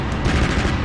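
25mm HE cannon firing from the turret of an infantry fighting vehicle in the combat simulator DCS World, a dense, loud burst of rapid heavy shots filling the whole moment with no talk.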